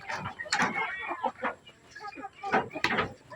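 Native chickens cluck in short, scattered bursts at close range, with a louder cackle toward the end.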